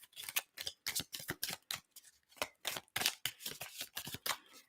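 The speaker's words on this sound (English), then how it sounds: "So let me just get both these decks shuffled up." Tarot card decks being shuffled by hand produce a quick, irregular run of crisp slaps and riffles, close and fairly quiet, with no voices.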